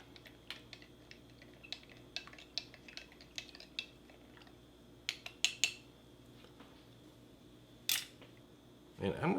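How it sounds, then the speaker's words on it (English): A spoon clinks and scrapes quietly inside a cup of coffee from a Russian 2018 Emercom ration, in a series of small sharp taps with brief gaps and a louder rustle at the end. "Give our coffee stir really quick."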